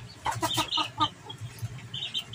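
A large fighting rooster clucks and squawks as it is picked up, giving a short burst of agitated, close calls that trail off into softer clucks.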